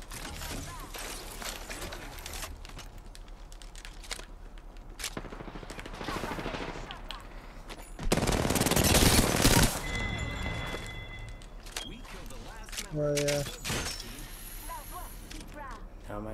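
Gunfire crackles in an Apex Legends match on PS4, with bursts of shots and a louder volley near the middle, heard under players talking.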